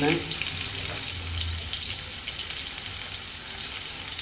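A continuous hiss of onion frying in hot oil in a pan, steady and close, with no talking.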